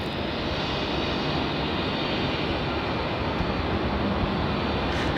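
A Japan Airlines jet at Melbourne Airport roars steadily, its engine noise loud and sustained throughout, heard alone without voices.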